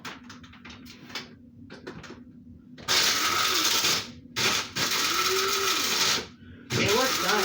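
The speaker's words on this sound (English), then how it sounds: "got this coffee grinder just specifically for grinding my spices" A coffee grinder used for spices whirs in loud mechanical bursts after a quieter stretch of handling noises, running in three long pulses with short breaks between them, the pitch shifting as the spices break down.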